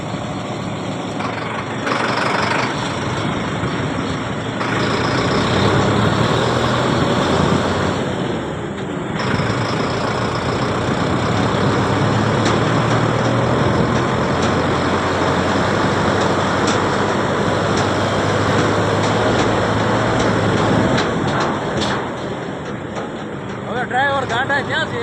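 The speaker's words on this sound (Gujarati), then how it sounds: "તો આ રીતનું આખું પાઇલિંગ મશીન છે" A piling machine's engine runs steadily on a muddy boring site, a loud continuous low rumble that holds throughout, with voices talking over it.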